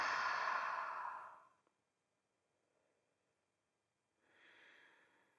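Two long, audible exhalations at the close of a dynamic Ashtanga yoga flow, a strong breathy release followed by silence, then a softer second breath out, near and without talk.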